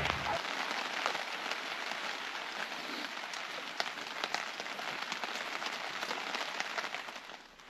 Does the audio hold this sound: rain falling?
yes